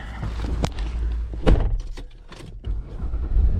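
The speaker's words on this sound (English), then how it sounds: "let's pull my car in to the driveway now" A car rolls slowly into an icy driveway, its low engine rumble steady throughout, with a couple of sharp knocks and thumps from the body or tyres on ice near the middle.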